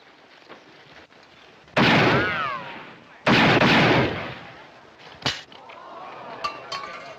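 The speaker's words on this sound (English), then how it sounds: "That's pretty good shooting, mister." Gunshots in an American western film: two loud, sharp reports with ringing tails a couple of seconds apart, then a smaller crack and fainter clinks, over quiet ambience with brief voices.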